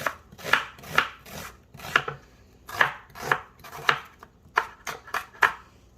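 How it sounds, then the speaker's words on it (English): A knife cuts through half of a large onion into thin slices, about a dozen crisp, separate strokes falling in an uneven rhythm, close and clear with no talking. "I'm just gonna go ahead and slice this onion up into thin slices."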